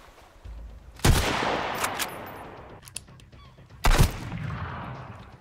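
Gunshots in the Sunkenland survival game: two loud, close blasts a few seconds apart, each with a sharp crack and a long echoing tail, a faint thud between them, no voice heard.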